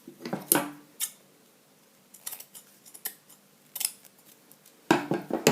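Scissors snip through fabric being trimmed for a sewing seam, a few sharp close cuts in uneven bursts with quiet gaps between them.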